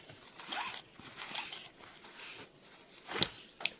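A zipper pull runs along a length of zipper tape in several rasping strokes, close and crisp, ending with a couple of sharper clicks.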